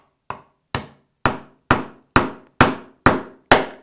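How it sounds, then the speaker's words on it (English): A hammer striking a chisel to cut cast metal rounds, eight sharp evenly spaced metallic blows ringing out up close with short decaying tails and no speech. "the easy way to cut these rounds was the simple way, and that's just with the old hammer and chisel business"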